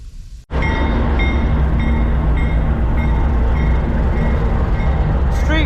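CSX freight train street running through Hudson, New York, a loud, close, continuous rumble of rolling cars with faint rhythmic clicking, beginning abruptly after a brief quiet moment.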